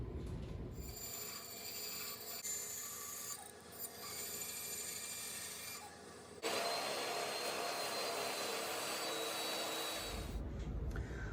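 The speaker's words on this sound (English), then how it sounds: "take it to the bandsaw" A bandsaw cuts wood pieces in a workshop, its steady motor whine loud and close. The blade's pitch shifts as it bites into the stock, with a louder stretch near the end before it winds down.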